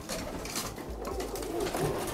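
Selçuklu pigeons coo softly in low, throaty murmurs against a steady background hum, with no voices.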